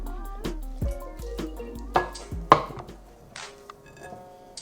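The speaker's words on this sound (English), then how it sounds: "add a little bit of water." Water is poured and worked into Maseca masa dough for pupusas, with soft drips, trickles and wet squishing pats in an irregular rhythm, close and fairly quiet.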